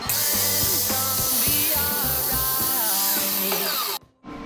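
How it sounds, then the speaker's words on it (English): A metal tube clamped in a vise being cut with a power tool, a loud whining, grinding cut with shifting pitch that runs steadily, then stops abruptly near the end. "I'm gonna put it in the vise and cut off that tube."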